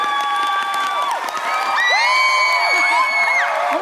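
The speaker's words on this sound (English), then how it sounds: "Oh my God, he got a bigger cheer than we did." An RTX convention panel audience cheers for Texas: a loud close crowd roar of whoops and high shouts that swells midway and carries on without talk.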